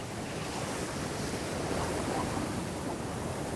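Steady roar of sea waves washing in on the Ria d'Etel coast of Brittany, broadband and continuous, with wind noise blending into the surf.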